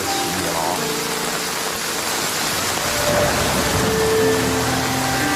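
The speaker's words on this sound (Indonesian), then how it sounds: "akibat hujan deras yang tengah berlangsung" Heavy rain pours down in a film scene, a dense, steady broadband roar that continues unbroken throughout, loud and close, with faint tonal sounds drifting underneath.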